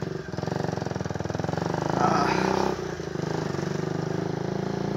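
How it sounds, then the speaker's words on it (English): A Yamaha RX135 motorcycle runs close by with a steady, chattering engine pulse and one brief rise in revs midway before it settles back to an even idle. "Let's start the bike first."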